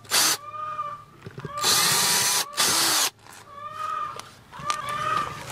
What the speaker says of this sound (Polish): Tylko w te dwie gwiazdki lecimy. Rozwiercamy je.